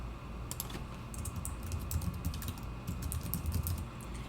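Computer keyboard typing, a rapid run of light key clicks close up with a low background hum and no talking.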